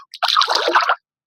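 Shallow sea water sloshing and splashing as someone wades along a beach near Santa Clara Port in Allen, Northern Samar, one short close burst of wet churning that then stops.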